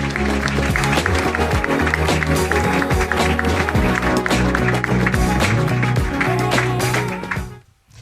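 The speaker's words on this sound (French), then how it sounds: "Pour analyser l'avenir de cet or liquide, je vous demande d'applaudir Isabelle Guillot." Audience applause at a live stage show in Marseille, dense continuous clapping over music that holds steady for several seconds before fading out near the end.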